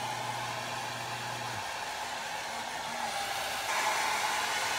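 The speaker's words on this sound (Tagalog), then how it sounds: "Saglit ko lang naman siya ginamitan ng hair dryer" A hair dryer runs steadily for a few seconds, blowing heat onto a hair mask during an at-home hair treatment, a continuous close whoosh with a slight rise in airflow near the end.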